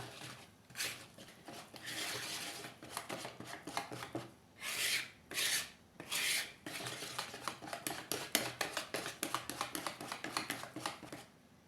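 Chocolate chip sponge cake batter being mixed in a bowl, with scraping and clinking strokes in uneven rhythm and a few louder, longer bursts partway through, close by and without talk.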